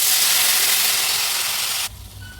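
Water poured into a hot pan of cooking potatoes and carrots sets off a loud, close hiss of steam that holds for about two seconds, then cuts off abruptly to a low simmer.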